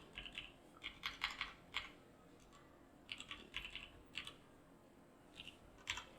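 Someone types LaTeX on a computer keyboard, producing quiet bursts of rapid key clicks separated by short pauses.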